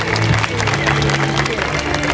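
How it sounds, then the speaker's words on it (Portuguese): An audience at a stage show applauds in a dense, steady wash of clapping and crowd noise, with a voice talking over it for the whole short stretch. "Senhoras e senhores, recebam com aplausos a corte do Marco das Três Fronteiras."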